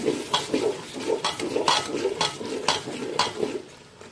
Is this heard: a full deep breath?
no